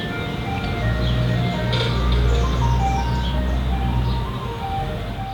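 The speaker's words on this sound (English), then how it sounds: "Ice cream truck, messing up my shot." An ice cream truck rolls past, its looping chime melody ringing out clearly over a low engine rumble, swelling as it draws near and then easing off as it moves away.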